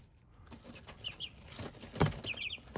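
Chickens clucking in a farmyard, a few soft scattered clucks and one louder squawk near the end over a low rustling background, with no talk.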